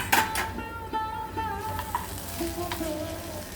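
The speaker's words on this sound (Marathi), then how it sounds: "वेलची हे सगळं मिक्स करून घेऊया." Pineapple shira with cardamom and dry fruits, stirred in a pan, gives a continuous soft sizzle with scraping spoon strokes and a few light metallic taps, close and steady.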